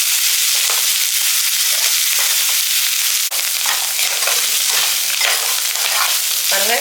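Greens sauté in a hot pan with a loud, continuous hiss of oil and steam. Occasional scrapes and stirring knocks break through, and a brief sharp click comes midway. No voices are heard.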